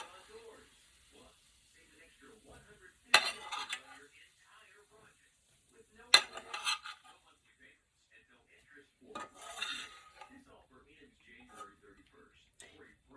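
Cooked mushrooms scraped from a pan into a bowl with a utensil, heard as three short clattering bursts of metal against cookware, spaced a few seconds apart over a quiet kitchen background.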